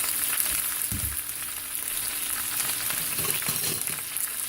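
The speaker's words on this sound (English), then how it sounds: "I'm just going to use tongs to stir that around" Garlic cooking in a hot pan while tongs stir it around, giving a continuous frying sizzle with a few soft scraping stirs, close and steady, no voices.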